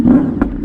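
A fuel-injected Honda VFR 800 motorcycle with a new, untuned aftermarket exhaust running slightly lean lets out one sharp backfire pop over its steady, low engine rumble.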